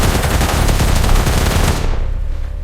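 Rapid bursts of gunfire, a dense automatic fusillade, loud and close, cutting off abruptly near the end with no talking.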